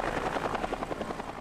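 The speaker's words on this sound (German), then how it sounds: "Vielleicht kommt sie da ja gerade mit dem Hubschrauber angeflogen." A helicopter in the video game Alan Wake beats steadily with rapid rotor thumps at a fairly close, moderate level, alone without talk.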